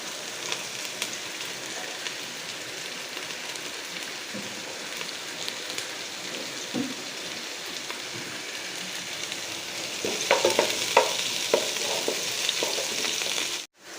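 Chopped green chilies fry in oil for chicken curry with a continuous crackling sizzle, growing louder and busier with stirring scrapes near the end before stopping abruptly.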